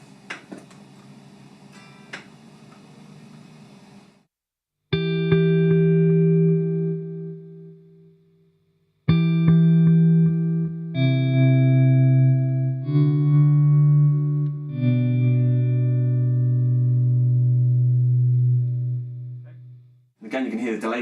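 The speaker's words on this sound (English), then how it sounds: "you can hear the delay tail come after when I bring back the volume pedal" Ambient electric guitar swells shaped by a volume pedal with delay and reverb pedals: soft chords fade in one after another and hang with echoing tails, some voice and quieter playing at the start.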